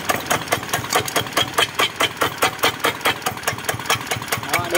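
Mitsubishi D65 diesel engine with a cracked block idling, giving a steady rapid rhythmic knocking chug that sounds loud and close, with no talk over it.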